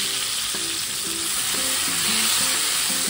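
Chili and lime leaves frying in hot oil for an oncom and petai dish, a dense, steady sizzle close by with soft stirring clicks, no talking.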